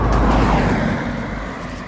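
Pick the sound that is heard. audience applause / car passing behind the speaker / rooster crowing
car passing behind the speaker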